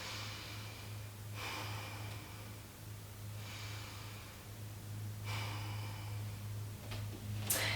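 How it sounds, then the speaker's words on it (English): Slow, deep breathing during a guided yoga session: several long, soft breath swells spaced a couple of seconds apart over a steady low hum, close and fairly quiet, with no talking. "Let's take 2 more breaths right here."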